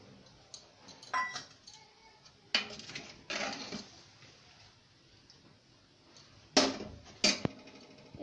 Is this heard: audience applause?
no